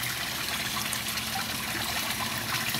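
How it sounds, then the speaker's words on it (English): Water trickles steadily into the ballast tank of a 1/32 scale German Type VII model U-boat during trimming, a continuous close, soft gurgling dribble with no voices. "Ballast tank is filling."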